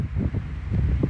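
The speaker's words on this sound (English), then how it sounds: "It's windy. It's quite windy." Wind on a summer day, a brief low rumbling gusting noise buffeting the microphone, steady and close, with no talk.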